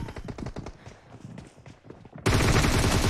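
Rapid bursts of gunfire from a PUBG Mobile 8 vs 8 match on the Santorini map, sharp repeated shots that swell into a loud, sustained dense volley near the end.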